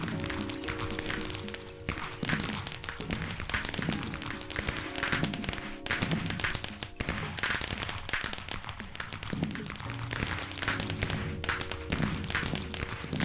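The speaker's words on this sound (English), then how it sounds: "There's a lot of fireworks." Fireworks in the video game Ragecraft 3, heard as a dense, continuous crackle of small pops and bangs layered over game music, fairly loud and unbroken throughout.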